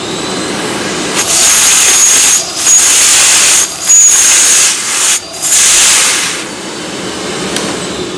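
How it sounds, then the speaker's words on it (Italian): A Miele Blizzard vacuum cleaner runs at maximum suction, a loud, steady rushing hiss with several brief dips and surges as the airflow is blocked and released, heard close up with no talking. "Quello curioso che vi voglio far sentire è la potenza di aspirazione, che è molto molto alta."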